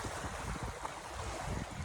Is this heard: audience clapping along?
no